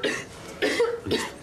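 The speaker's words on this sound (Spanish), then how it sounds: "Esa tos no me gusta nada." A woman in a medical setting coughs three times in quick succession, close and fairly soft, each cough a short raspy burst.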